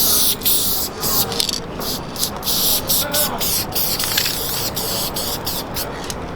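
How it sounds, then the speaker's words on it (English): A spray paint can hisses in repeated bursts as a street muralist works on a mural, short sprays separated by brief pauses, fairly close and steady. "working with a spray can and being able to illustrate something from a portrait to lettering"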